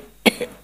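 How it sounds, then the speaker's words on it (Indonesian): A single sharp cough, close and fairly loud, followed by a softer second burst, with no talk around it. "Batuk-batuk."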